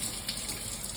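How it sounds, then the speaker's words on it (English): Tap water runs into a kitchen sink as someone washes their hands with soap, a steady close splashing rush with small uneven surges, and no voices. "So I'm going to wash my hands in the sink with some soap."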